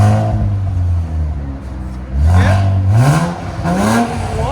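A 2017 Infiniti Q60 Red Sport 3.0L twin-turbo V6 with no catalytic converters and exhaust valves closed, cold-started, revs loudly twice in quick succession, each rise in pitch falling back to a steady rumbling idle between.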